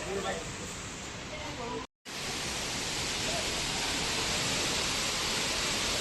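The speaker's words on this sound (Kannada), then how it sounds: "ವಾವ್ ಫೈನಲಿ ಎಂಕುಲ್ ಸಿರಿಮನೆ ಫಾಲ್ಸ್ ಬತ್ತ" Sirimane Falls roars as a dense, steady rush of falling water, loud and close, with a brief dropout partway through and no clear talk over it.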